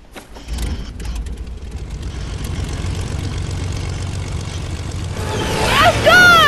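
Airplane in the Fortnite video game: a loud, steady engine drone with rattling mechanical texture builds over several seconds, ending in sweeping, rising whistle-like tones.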